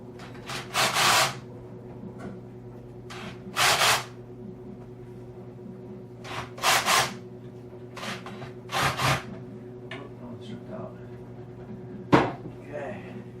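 Screws being driven into the wood of a loose toilet seat hinge, heard as several short rasping, rubbing bursts spread out over the clip, fairly close and clear with no one talking.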